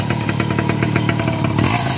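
Caloi moped engine running close by, a loud buzzing two-stroke putter with a rapid pulsing rhythm throughout the short stretch.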